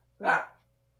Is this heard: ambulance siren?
no